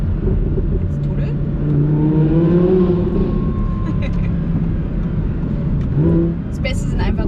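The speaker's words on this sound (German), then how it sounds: "Schöner V10 Sauger ohne OPF, du hörst noch was, du hast was vom Klang." A naturally aspirated V10 engine in an Audi R8 V10 GT, without a particulate filter, drones and revs, its pitch rising and falling, loud and close, while someone talks over it in a tunnel.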